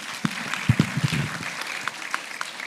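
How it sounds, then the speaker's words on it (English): Scattered applause from an audience for a panel of speakers, with a handful of distinct, sharp claps spaced irregularly over a soft background, fairly thin and uneven rather than a full ovation. "keep clapping for my panelists, your panelists"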